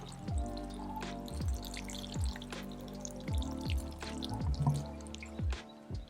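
Diluted fish fertilizer water is poured from a container over pepper and eggplant plants in a garden. It comes through as a series of soft, evenly spaced splashes and drips, close by and fairly quiet.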